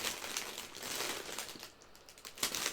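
A chip bag crinkles and rustles almost continuously, close and fairly loud, with a brief dip in the middle before the crackling picks up again, and no one speaking.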